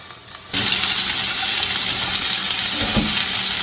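Peppers cooking down in a pan for vegan tacos, a steady, close sizzle that starts abruptly and holds even and loud, with a couple of faint knocks from the pan partway through.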